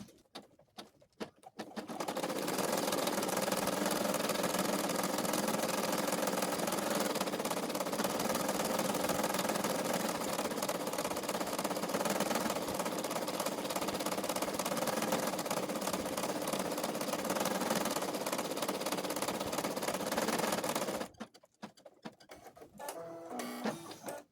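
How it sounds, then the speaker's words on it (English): An embroidery machine stitches a doll joint reinforcement stitch through cloth doll skin fabric, a steady, loud mechanical whirring and rapid needle rattle running continuously for about twenty seconds before stopping. "stitch out the doll joint reinforcement stitch"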